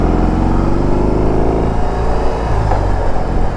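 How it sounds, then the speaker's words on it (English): BMW R18 motorcycle, a big classic-style cruiser, its engine loud and close as it pulls and rises in pitch under acceleration, a continuous heavy drone with no talk over it. "You can feel that engine working every bit."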